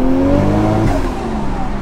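A Ford AU Falcon engine with a boost leak revs hard close by, a loud sustained roar with shifting pitch that holds steady for under two seconds.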